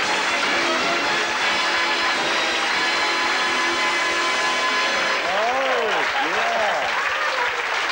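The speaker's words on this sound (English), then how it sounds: "you've got a good cheer from the fellas" A television game show studio audience in 1978 cheers and applauds, a loud continuous roar of clapping with whoops, and near the end a few rising and falling whistles ring out over the crowd.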